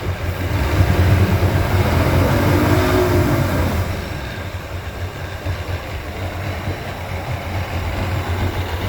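Mercury 175hp EFI V6 oil-injected two-stroke outboard on a boat, a loud steady low drone that swells under throttle and then eases to a lower, rougher running note.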